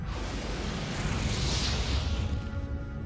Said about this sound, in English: they blew up in a tremendous explosion called a supernova